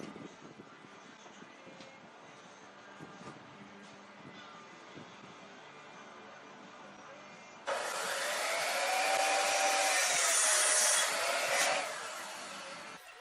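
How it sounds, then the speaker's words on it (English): After quiet workshop noise, a power saw whines up loudly, cuts through a 2x4 wooden board about 16 inches long for several seconds, then winds down. "Now I need to cut a piece of 2x4 approximately 16 inches long."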